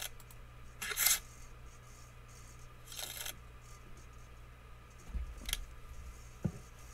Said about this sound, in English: So I'm going to go ahead and shuffle these up.